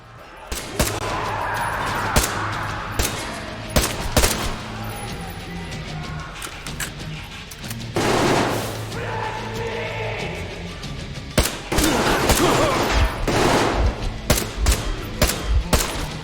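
Enemy gunfire in the video game Metro Exodus, loud bursts of automatic rifle fire and single shots that come in repeated volleys with short gaps, close and harsh, with crashes mixed in.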